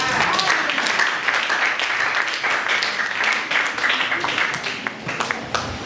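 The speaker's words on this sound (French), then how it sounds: "Acclamez pour Jésus." A church congregation at a Sunday service claps and applauds for Jesus, a dense steady wash of many hands with voices mixed in throughout.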